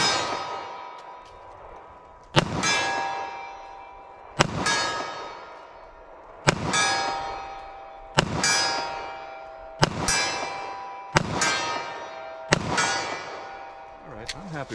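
Seven .45 ACP pistol shots ring a steel target at 40 yards outdoors, each a sharp crack followed by a bright metallic clang that rings and decays before the next, evenly spaced.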